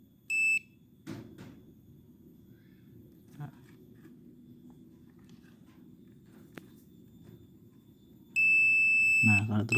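A continuity tester checking a Maspion electric fan gives short, high electronic beeps, one brief tone near the start and a longer steady beep at the end, with quiet handling noises and faint talk between.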